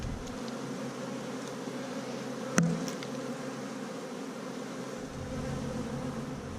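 Honey bees buzzing at a queenless hive during an inspection, a steady soft drone with one sharp knock partway through, close and with no talking.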